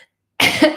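A single loud, close cough erupts after a brief silence, a harsh rough burst lasting under half a second with a short second push at the end.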